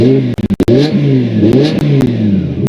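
BMW M5 E61 Touring V10 revving with its exhaust valves closed, a loud, close, smooth engine note climbing and falling through several blips, with a few brief dropouts near the start.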